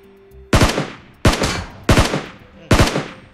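Gunfire in the PUBG Mobile battle royale game: four loud, evenly spaced bursts of rapid shots, each a tight cluster of cracks with a fading tail, close and alone without talk.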